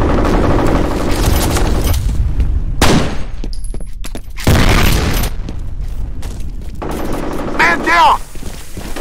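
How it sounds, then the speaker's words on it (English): Grenade explosion and bursts of automatic gunfire from the first-person shooter F.E.A.R. on Normal difficulty, loud booming blasts and rapid fire throughout, with brief voices calling out amid the combat. "Grenade out."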